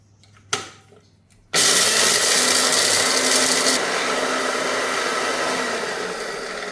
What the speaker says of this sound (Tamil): கடுகையும் மிளகையும் முதல் அரைக்க போகிறேன்.